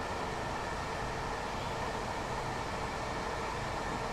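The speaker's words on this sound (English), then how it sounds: "you get all this sound and the sound that you get when you go past another train" Gatwick Express train in Train Sim World 2 running to Brighton, a steady, loud broadband rumble and rushing noise of the moving train, constant throughout with no speech.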